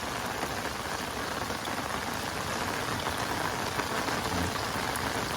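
Steady rain pattering on a riverbank during fishing, an even, close hiss of drops on surfaces with no voices.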